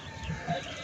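Pet chickens and ducks on a farm, fed banana shoots, give soft, faint clucks, two brief low calls close together over a steady outdoor background.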